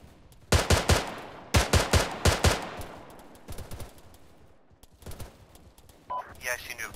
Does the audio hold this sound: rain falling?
no